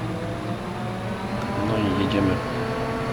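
A combine harvester in Farming Simulator 15 starts up, its engine settling into a steady mid-level drone with a slight rise partway through.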